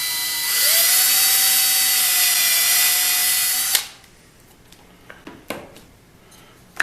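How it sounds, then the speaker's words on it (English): A power drill with a 3/16 inch bit whines loudly at a steady high pitch while boring out an office chair wheel for about three and a half seconds, then stops, followed by a few light clicks and taps. "And I drill the wheel out"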